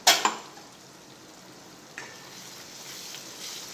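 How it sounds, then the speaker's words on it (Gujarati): Tomato puree drops into hot oil and gravy for a Kathiyawadi kaju gathiya curry, giving a sharp splatter at the start and then a soft, steady sizzle with a second small hiss midway. "હવે એમાં આપણે ટામેટાની પ્યુરી એડ કરીશું।"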